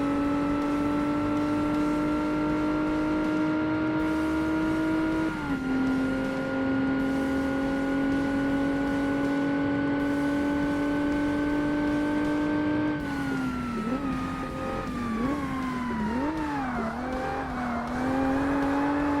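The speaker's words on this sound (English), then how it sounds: "we do have nice and quick shifting with this car" A race car engine in Forza Motorsport drones at high revs, with quick gear shifts dropping the pitch around five and thirteen seconds, then revs waver and climb through later shifts; no talk.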